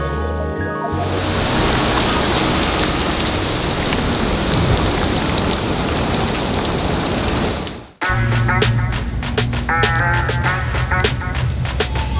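Steady rain falls outside, a dense loud hiss that runs unbroken before cutting to nearby clattering and rattling as things are moved.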